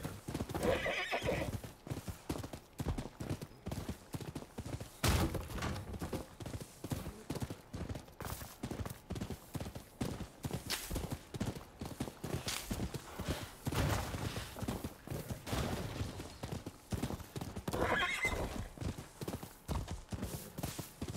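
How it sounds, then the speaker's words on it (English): A horse gallops in the video game Rise of the Ronin, with a continuous, fast clip-clop of hooves lasting about twenty seconds and a couple of whinnies rising above the steady hoofbeats. "This horse doesn't jump as high as Torrent."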